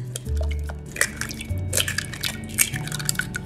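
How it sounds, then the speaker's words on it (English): Eggs cracked into a bowl for paleo egg muffins, with a few sharp taps and wet drips and squishes close by over a low tonal hum. "Now let's start cracking our eggs."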